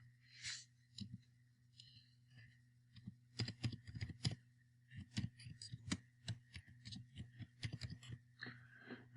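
Rapid clicking of computer keyboard keys while typing a chart title into a spreadsheet formula bar, uneven bursts of keystrokes close to the microphone with a steady low hum underneath.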